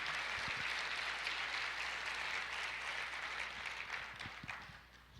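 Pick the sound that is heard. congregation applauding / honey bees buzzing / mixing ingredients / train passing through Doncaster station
congregation applauding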